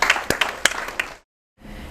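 Audience applause at a Punjabi arts, poetry and music program: a short, fairly loud burst of clapping lasting about a second before cutting abruptly to silence, then faint room tone.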